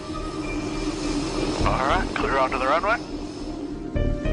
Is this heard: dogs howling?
no